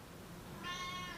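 A cat gives a single clear meow midway through, fairly faint against a hissy room background, with no talking.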